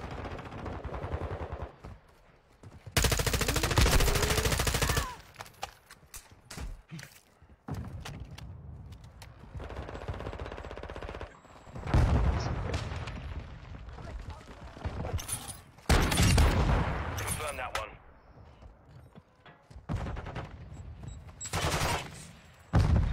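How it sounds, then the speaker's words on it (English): Loud bursts of automatic gunfire and single shots in Warzone 2.0, arriving in heavy clusters separated by quieter stretches with thuds and movement, with a player talking at times in between. "Shots. Multiple"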